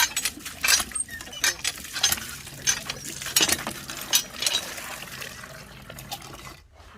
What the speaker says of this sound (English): We have to pump water.